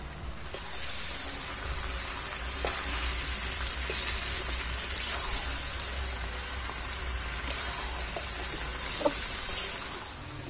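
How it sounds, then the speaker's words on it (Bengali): Chicken feet and potatoes sautéing in a pan, a steady crackling sizzle with scattered pops and faint clinks throughout, close and even, no voices. "এবার পা গুলো দিয়ে দিলাম, সঙ্গে আলুটাও দিয়ে দেব, দিয়ে এবার ভালো করে কষাবো"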